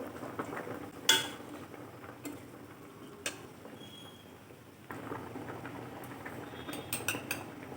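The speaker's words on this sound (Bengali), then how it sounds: "ঝোলটা ফুটতে শুরু করেছে, এখানে আমি ভেজে রাখা আলুগুলো দিয়ে দিচ্ছি" Fried potatoes are dropped into boiling gravy for a Bengali raw-banana malai kofta curry. A couple of sharp utensil clinks stand out over a soft, steady simmer and faint stirring, with no talking.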